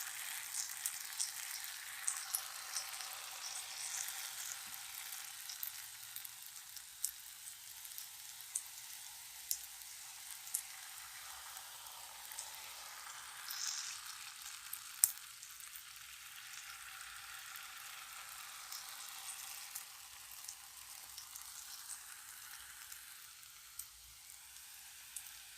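Jalebi batter frying in hot cooking oil gives a faint, steady high sizzle with soft crackles throughout, quiet and even with no voices.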